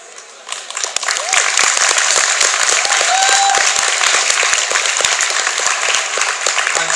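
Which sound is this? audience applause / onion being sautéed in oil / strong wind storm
audience applause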